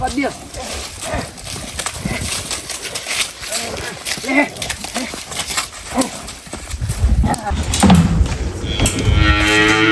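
Cows at a village cattle shed moo loudly and nearby several times across the clip, with hooves shuffling and people talking over the animals.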